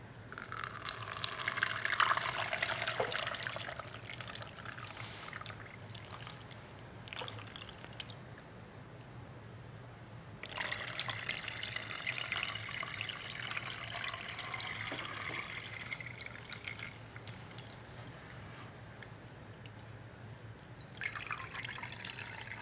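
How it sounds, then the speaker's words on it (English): Water poured through a dusty, sediment-filled plant pot, splashing and trickling in steady bursts that fade into quieter dribbling, then swell again near the end, with a low hum underneath. "So I'm gonna like water it through here and then dump this out."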